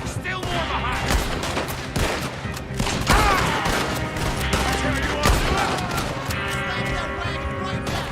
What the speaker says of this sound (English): Shoot him, Arthur, before they blow us to high hell